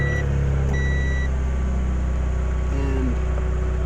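A car engine running right after a spark plug replacement, a steady close idle hum with a few electronic chime tones over it.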